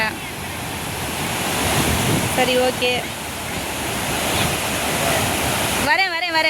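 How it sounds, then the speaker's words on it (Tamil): Rushing water and waves fill the scene at the sea's edge, a steady broad wash with wind noise on the microphone, while a few voices speak briefly over it. "இப்போ நம்ம இருக்கிற இடம் பார்த்திங்கன்னா வெறும் கடல் தான்."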